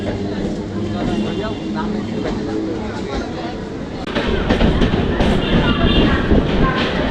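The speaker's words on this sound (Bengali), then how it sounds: "দেখতে পাচ্ছি ট্রেন ঢুকে গিয়েছে এখন বর্তমানে" A train rumbles and clatters along the tracks, its noise swelling louder as it pulls into a station, with voices mixed into the din.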